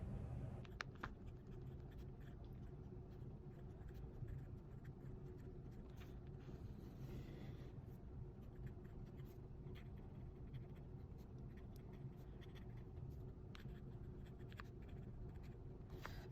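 A TWSBI Mini AL fountain pen scratches softly across paper, with a quiet continuous patter of small nib strokes and light taps, close and faint, with no talk.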